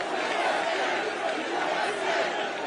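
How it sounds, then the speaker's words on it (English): A large crowd at a Trump rally in the Bronx chanting USA, a dense, steady roar of many voices that carries evenly and loudly throughout. "Hey, wait, they're chanting USA."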